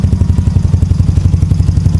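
Carbureted Yamaha Mio Soulty scooter engine idling close by, a loud steady low putter with rapid even pulses throughout, no voices.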